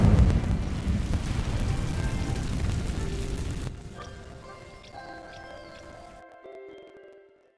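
An Incendio fire spell in Hogwarts Legacy: a loud whooshing, crackling burst of flame that dies down after a few seconds, giving way to soft chimes and magical tones that fade to silence.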